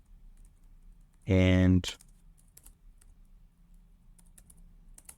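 Light clicks from typing on a computer keyboard follow a single short spoken word, the key taps faint and irregular against a quiet room.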